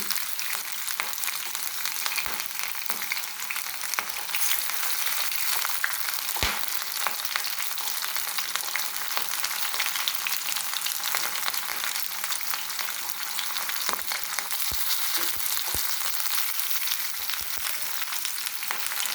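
Green chillies, garlic and ginger fry in a pan with a steady, dense sizzle that stays close and loud throughout, broken by occasional stirring scrapes, and no one speaks.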